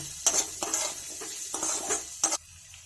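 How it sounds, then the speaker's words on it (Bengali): A spoon scrapes round a pan as coriander, turmeric and Kashmiri chilli powders are mixed into a cauliflower filling, giving a series of close scraping strokes over a faint background sizzle. "এটা ভালোভাবে আমি মিশিয়ে নেব"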